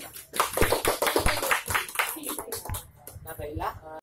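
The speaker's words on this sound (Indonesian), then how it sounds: "Tepuk tangan dulu buat kita." Audience clapping at an appreciation moment during a gathering, a dense burst of hand claps that starts quickly and holds fairly loud, with voices mixed in underneath.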